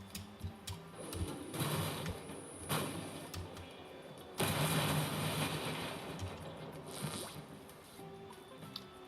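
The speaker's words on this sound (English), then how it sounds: "So this one is more like I said, of a Flutter engine." A flutter engine built in the game Trailmakers runs with a rapid mechanical chatter that surges and fades in bursts, close and loud, with sharp clicks between the swells.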